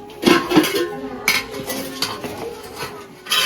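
Bowls and a cooking pot clatter and clink as they are handled in a home kitchen, with a few sharp knocks near the mic followed by lighter metallic rattles and scrapes.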